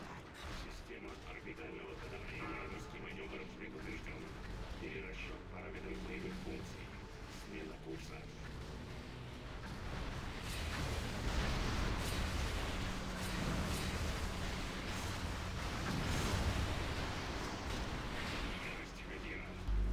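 Video game battle in which gunfire and artillery shots build into a dense, continuous roar of blasts and rumble in the second half, with a voice speaking over the quieter opening.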